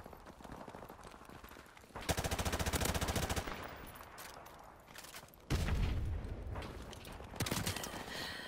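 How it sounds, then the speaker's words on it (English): Modern Warfare Remastered gunfire: loud automatic bursts from a machine gun, each lasting about a second, separated by quieter game noise. "Oh look, I'm being shot."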